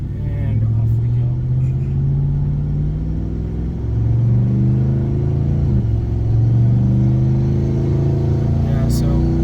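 A 5,500-pound, 750-horsepower Factory Five XTF truck pulls away towing a trailer, its engine rumbling low and rising through gears in a steady drone, with people talking over it.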